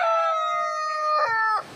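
A rooster crows close by in a windy autumn farmyard, one long strained cock-a-doodle-doo with a rising final note, loud and alone before cutting off.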